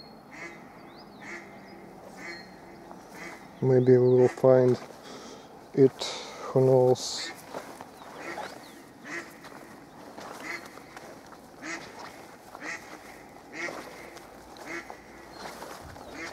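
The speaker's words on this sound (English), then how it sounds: "I think I'm hearing from around there another duck." A duck quacks in several loud, close bursts of three to five harsh calls in the middle of the stretch, while someone talks quietly and footsteps and outdoor rustling go on around it.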